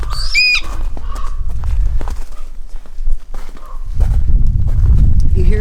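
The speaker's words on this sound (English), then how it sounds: "You hear this bird screeching?" A shrill bird screech near the start, rising and falling, followed by shuffling noises, footsteps, and a rumbling background.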